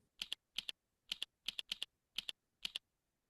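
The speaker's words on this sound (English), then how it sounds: "Start typing in a document." Computer keyboard being typed on in short, crisp bursts of two or three clicks each, seven quick clusters spaced evenly over a few seconds, close and clear against a quiet background.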